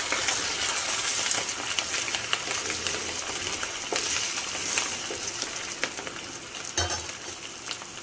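Ginger garlic paste frying in hot oil, reused after frying boneless chicken pieces, giving a steady loud sizzle with occasional stirring scrapes and a sharper clatter near the end.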